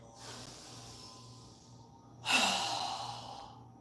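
During yoga breathing exercises, a person breathes softly for a moment, then pushes out one strong, forceful exhale that hisses loudly and fades over about a second and a half.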